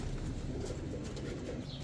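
A pigeon coos softly among birds for sale, the low murmuring call faint beneath a steady wash of background noise over a short stretch.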